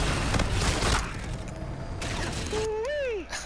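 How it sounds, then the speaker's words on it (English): Friendly bombardment explosions in Call of Duty: Infinite Warfare, a dense rumbling barrage of blasts in the first second, then quieter booms as a whistling, wavering tone rises and falls near the end. "Friendly bombardment blowing up the spot."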